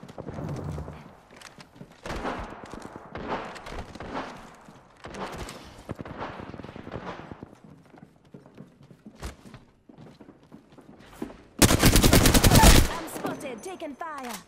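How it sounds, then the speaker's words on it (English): Gunfire in the video game Apex Legends: scattered short shots and bursts, then a dense loud automatic volley near the end, mixed with in-game voice callouts. "Opening fire"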